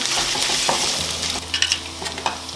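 Turmeric, ginger and miso sauté in a pan with a close, steady sizzle. A few stirring scrapes and clicks come near the end, with no voices.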